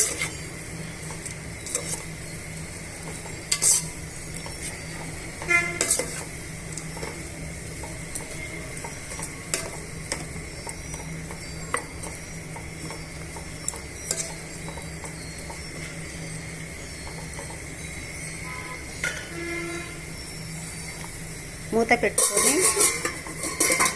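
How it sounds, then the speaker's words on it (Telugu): Mutton biryani ingredients stirred together with salt in a pot, a steady run of scraping and clinking strokes close by, ending in a louder burst of clattering. "తగినంత ఉప్పుని యాడ్ చేసుకున్న తర్వాత ఇవన్నీ బాగా మిక్స్ చేసుకొని ఇవన్నీ బాగా మిక్స్ చేసుకుందామండి"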